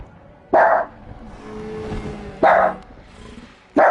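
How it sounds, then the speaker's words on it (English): A dog barks three times, loud and close, with short single barks spaced about two seconds apart over quiet video game sounds. "Sorry, my dog's barking."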